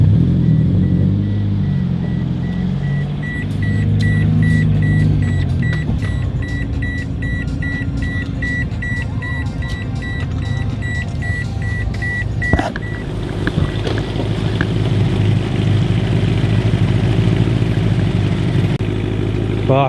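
A BMW E92 idles in a home garage, a steady low engine drone underneath with intermittent electronic beeps and clatter, the idle note shifting slightly partway through; no speech.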